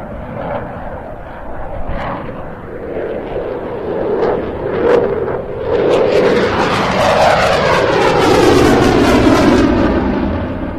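A Eurofighter Typhoon jet fighter rolls through its display at a seaside air festival, a loud, continuous jet roar that swells and sweeps in pitch as the aircraft passes, ending in a rushing, comb-like drone as it moves away.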